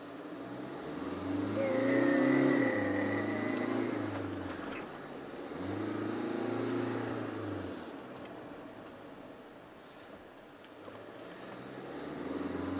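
A Peugeot Landtrek pickup truck's diesel engine revs up and down twice in slow, drawn-out sweeps, moderately close, with birds cooing faintly in the background.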